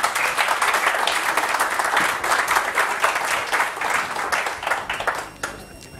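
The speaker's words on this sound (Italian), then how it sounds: "Un applauso per lui." An audience at a conference applauds a guest speaker, dense clapping that carries on steadily for several seconds before tapering off near the end.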